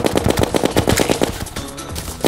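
The Minishark, a rapid-fire gun in Terraria, sprays a quick, steady stream of snappy shots for about a second and a half, then gives way to softer tonal game sounds.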